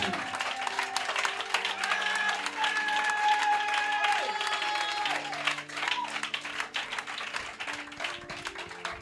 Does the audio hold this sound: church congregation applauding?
yes